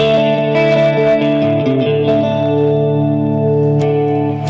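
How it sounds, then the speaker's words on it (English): Clean electric guitar played through reverb, delay, chorus and harmonizer effects, sustained shimmering chords ringing and overlapping with long echoing tails, loud and alone. "I have a sort of like a very shiny, kind of shimmery clean tone"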